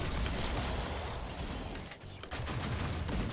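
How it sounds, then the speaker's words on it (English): Many players firing guns at once in a Tower Unite gun game match on the Meadows map, a dense, continuous barrage of overlapping shots that stays loud throughout with only a brief dip midway. "There's too many people shooting at once."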